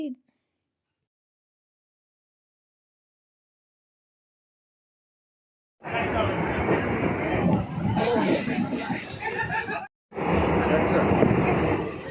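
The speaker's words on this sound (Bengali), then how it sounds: "আর আমি এবার ট্রেনে উঠে পড়েছি" Inside a moving passenger train, a steady rumbling ride noise with a crowd murmur starts after several seconds of silence, cuts out briefly, then resumes at moderate level.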